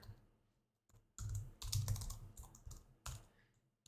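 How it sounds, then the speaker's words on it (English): A computer keyboard clatters nearby in quick bursts of keystrokes with short pauses between them, loud and close. "the keyboard typing was actually quite loud"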